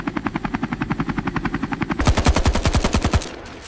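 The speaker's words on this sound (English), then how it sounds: "Tiếng trực thăng ở đâu ra?" Rapid, steady rotor thumping close by, picking up to a heavier, louder chop partway through before cutting off abruptly.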